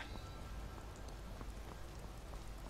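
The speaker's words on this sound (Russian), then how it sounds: "Вообще надо этот дождь переждать, я думаю." Steady rain falling in the video game Skyrim, a continuous dense patter of droplets on surfaces at a soft, even level with no talking.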